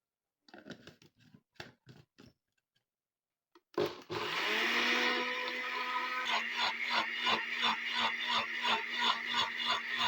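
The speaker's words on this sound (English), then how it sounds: "Transfer into a blender, add some water, and blend them smoothly." After a few light clicks and knocks, a blender roars to life, whirring steadily and loudly as it purées rinsed fruit with water for natural food coloring, its motor pulsing slightly as the contents churn.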